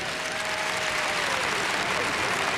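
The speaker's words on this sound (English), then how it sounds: "Nice round of applause" Arena audience applauding at a 1998 World Championships figure skating exhibition, a dense, steady wash of clapping heard throughout the short stretch, with a commentator's voice faintly under it.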